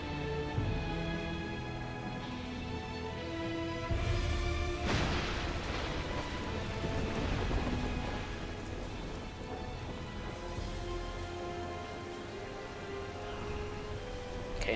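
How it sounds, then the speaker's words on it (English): Rain and wind batter a ship at sea during a storm in the video game Prince of Persia: Warrior Within, with one loud thunder crash partway through and steady downpour underneath sustained musical tones. "This storm shows us no mercy."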